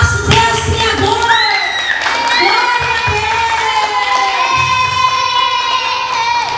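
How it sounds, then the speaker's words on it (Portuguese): Children's cheering, shouting and clapping during a church children's theatre service, a loud lively crowd with high excited voices and whoops ringing out throughout. "vamos dar uma salva de palmas para o nosso Deus Criador!"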